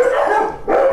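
Dog barking indoors in a home with several dogs, cats and horses; a steady, dense bark-like sound fills the short moment with a brief dip before resuming.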